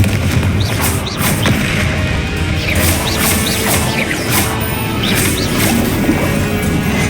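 Confringo blasting spells burst again and again in Hogwarts Legacy combat, loud crashing explosions piling into a dense, continuous roar with sharp impacts on top.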